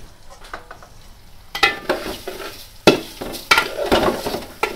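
Washed Gobindobhog rice frying in a pan for biryani, stirred with a utensil in repeated scraping bursts over a light sizzle, close and moderately loud, with no voices.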